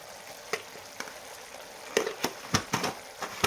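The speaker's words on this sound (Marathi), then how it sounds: "मी ह्याच्यामध्ये साधारण एक मोठा चमचा भरून तिखट घालते" Home-made chili powder stirred into ridge gourd cooking in a pan, a low steady sizzle broken by several soft scraping stirs and light clinks, close and fairly quiet with no talking.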